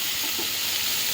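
Tomatoes and onions frying in a pan for onion chutney produce a brief, steady, loud hissing sizzle with faint stirring underneath.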